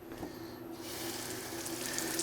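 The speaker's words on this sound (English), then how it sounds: "This knife I should wash because it's going to go rusty." Tap water runs into a kitchen sink while a carbon steel knife is rinsed, the flow starting softly and swelling into a steady, close, splashing rush.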